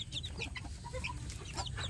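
Village chicks of mixed ages, some small and some nearly grown, cluck and peep steadily together in a flock, close by and fairly loud, with no voices over them.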